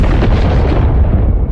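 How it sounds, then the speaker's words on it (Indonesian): In a war film set on the Eastern Front, a bomb explosion lands as a loud, deep, rolling boom. It fills the whole short moment and fades slightly toward the end, with no voices. "ledakan bom membuat prajurit Wise menangis kaku ketakutan"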